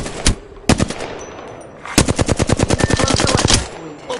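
Video game gunfire: a single loud shot, another burst, then a long rapid string of automatic fire from a weapon, close and loud with no talk over it.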